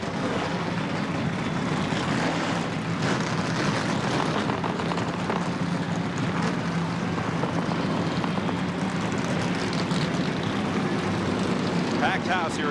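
A pack of 42 NASCAR Winston Cup stock cars fires up at Phoenix, a broad continuous engine roar swelling across a packed raceway, loud and sustained.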